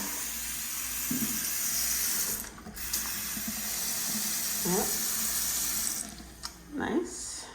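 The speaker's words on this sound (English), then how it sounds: "good water flow." Water runs steadily from a bathroom tap in a Florida house, a continuous hiss of flow with brief pauses and occasional faint voices and clunks in the background.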